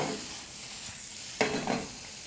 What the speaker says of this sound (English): See if you get a little sizzle.